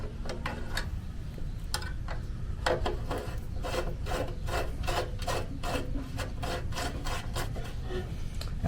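Screws threaded by hand into the intake manifold of an old Snapper mower, giving a run of sharp, rhythmic metallic ticks and rasps, close and steady with no talking.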